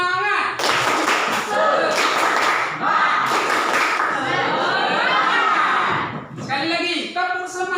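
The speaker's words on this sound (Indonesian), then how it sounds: "Ada yang tahu tepuk semangat?" Classroom of students doing a rhythmic spirit clap in unison, bursts of patterned hand claps alternating with chanting voices and a teacher speaking, with some laughter and chatter in the room.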